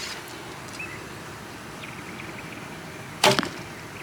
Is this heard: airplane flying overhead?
no